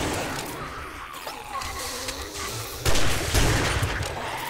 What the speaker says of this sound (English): I might be able to shoot shotgun style.